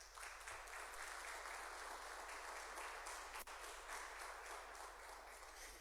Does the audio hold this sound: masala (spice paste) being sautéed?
no